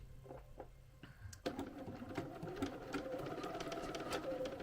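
A domestic sewing machine starts up and runs in a fast, steady mechanical whir while back stitching a sweatshirt neckband, close and fairly quiet.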